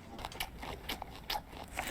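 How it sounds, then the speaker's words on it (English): Loud, crunchy chewing of raw vegetables such as celery and bell pepper, heard as a run of sharp, close bites and crackly munches that repeat roughly every half second, with no talking. "It's all just like really crunchy raw vegetables."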